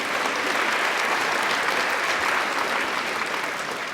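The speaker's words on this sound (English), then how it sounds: "So give yourselves a round of applause for simply existing" Steady, dense applause from an audience at a World Book Night event, loud and even throughout, with many hands clapping at once and no voices over it.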